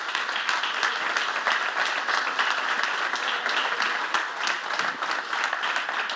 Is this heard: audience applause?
yes